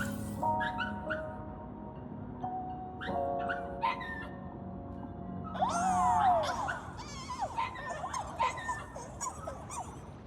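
A giant dog creature in the video game Honkai Star Rail whines and yips in short, high cries that come and go over a steady game backdrop with some musical tones.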